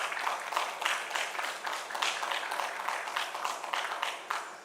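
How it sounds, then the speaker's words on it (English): Audience applause at a memorial service and celebration of life, a steady wash of many hands clapping at moderate level with no voices over it. "A round of applause, please."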